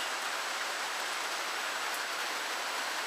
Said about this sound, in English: I'm not going out in the rain